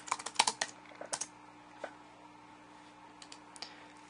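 Keys clatter on a computer keyboard in a quiet room, a quick burst of typing at the start followed by a few sparse, isolated clicks, with a steady low hum underneath.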